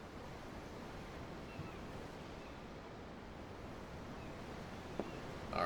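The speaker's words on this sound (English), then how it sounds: "The ocean? Yeah. The waves." Soft, continuous rush of ocean waves and surf in Tales of Arise, a steady broadband wash with gentle swells, faint and unbroken with no talking.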